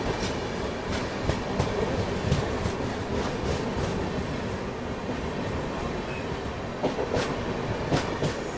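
A Garib Rath Express passenger train runs on rails toward the Ahmedabad line, a loud, steady rumble with rhythmic clickety-clack of wheels over rail joints, close and continuous.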